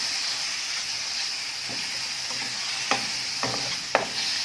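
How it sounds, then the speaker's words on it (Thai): Pork stir-frying with red curry paste and kaffir lime leaves: a steady close sizzle with scattered sharp scrapes of a utensil against the pan, a few louder clacks toward the end. "เราก็ใส่หมูลงไปเลยค่ะ ใส่หมูลงไปผัด"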